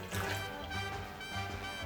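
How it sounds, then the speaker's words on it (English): Tonic water poured into a cocktail shaker, a short gurgling trickle of liquid with pulsing fill sounds, close and moderately loud. "Then we add some lime juice and 10 milliliters of tonic water."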